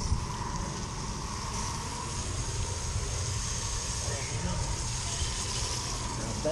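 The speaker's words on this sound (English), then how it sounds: "we'll squirt it down and see how much dirt comes off" Simple Green cleaner sprayed onto dirty car tires and wheels, a steady close hissing gush that runs unbroken for the whole stretch with no talk over it.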